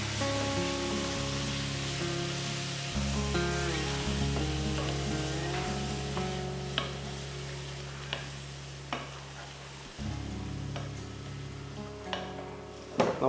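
Beef poured into roasted masala for Kerala-style beef roast, a steady close sizzle and hiss under a droning hum, broken by a few sharp clatters from a utensil in the pan.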